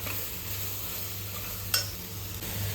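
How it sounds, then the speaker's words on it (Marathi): Soya chunks being sautéed in biryani masala for soya rice: a steady low sizzle with soft stirring scrapes and one brief sharp clink of a utensil on the pan, no talking. "आता हा सोया पण आपल्याला या मसाल्यामध्ये छान परतून घ्यायचा आहे."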